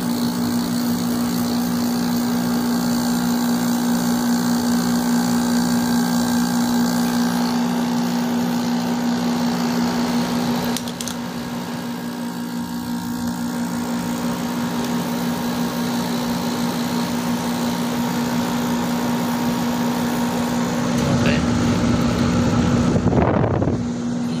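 A loud, steady mechanical hum of a running Carrier air conditioner compressor, droning continuously with a brief shift midway and a rattle near the end.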